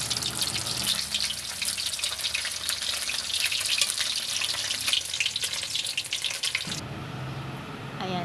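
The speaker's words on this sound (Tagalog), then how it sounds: "Ayan, nilagay ko na yung mga tilapia na fillet na may templa" Seasoned tilapia fillets fry in hot oil with a loud, dense, continuous sizzle and crackle that shifts in tone briefly near the end.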